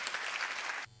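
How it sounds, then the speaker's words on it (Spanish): A brief, close wash of crowd applause at a municipal nativity scene inauguration cuts off abruptly before the end, leaving quiet room tone. "espero que le demos un caluroso aplauso"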